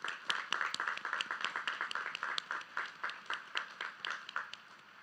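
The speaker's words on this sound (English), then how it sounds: "Please give them all one round of applause." A crowd claps at a Woodinville High School Class of 2021 graduation ceremony, a fairly quiet, sparse patter of hands with distinct individual claps throughout, steady and moderately distant.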